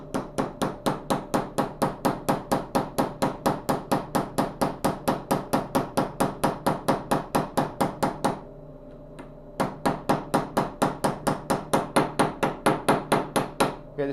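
Light hammer taps on a deep well socket seating a bearing in a classic Powr-Kraft router, a steady rapid series of crisp metallic knocks, a brief pause, then the even tapping resumes, close and clear.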